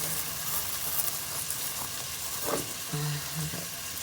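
Bacon frying in a pan, a steady close sizzle and crackle running throughout, with a few brief clinks and a short low hum near the end.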